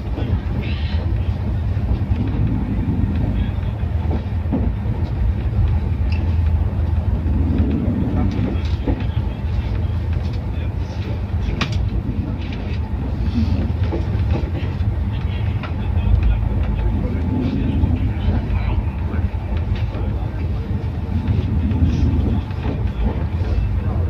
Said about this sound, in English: the train is really running fast